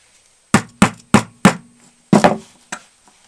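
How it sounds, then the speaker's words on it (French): A small 3 cm nail hammered to punch holes while building a homemade stove: four sharp, evenly spaced strikes, a pause, then three more blows, loud and close with no voices. "Donc c'est un tout petit clou, il doit faire 3 cm. Et on va faire donc 4 ou 5 trous au milieu."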